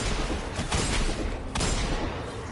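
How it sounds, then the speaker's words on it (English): Hand cannon fire in the video game Destiny 2: heavy, booming shots with a sharp crack burst out one after another, loud and close, with no talking over them. "Yo, this hand cannon sounds so good in my ears."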